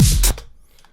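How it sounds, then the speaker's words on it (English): A short, loud crash hit with a noisy burst that cuts off quickly, leaving a faint, fading tail. "this little whooshy effect, this crash effect."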